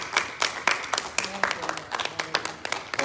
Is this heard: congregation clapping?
yes